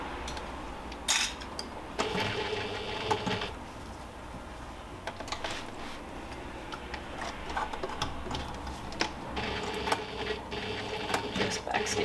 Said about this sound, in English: I'm going to go ahead and stitch this seam. My machine is a little bit loud and I like to go fast